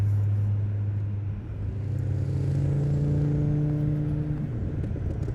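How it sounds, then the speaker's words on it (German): An Audi 200 Turbo quattro Trans-Am road prototype drives close by, its engine giving a steady low rumble with a rising tone as it pulls, loud and continuous with no voices. "Diese Mischung aus Schrummeln und Laderpfeifen, das ist schon sehr, sehr cool."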